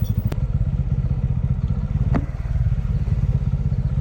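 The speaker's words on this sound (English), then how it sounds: "I personally enjoy going off-roads with my bike." A motorcycle riding off-road on a forest track near Kakolem Beach in Goa, its engine throbbing in a steady, close, loud pulse with a couple of sharp knocks and clatters from the rough ground.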